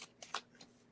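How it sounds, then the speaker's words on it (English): A deck of playing cards shuffled close up and quietly, with a few quick riffling bursts in under a second and no talking. "I'm going to shuffle on this."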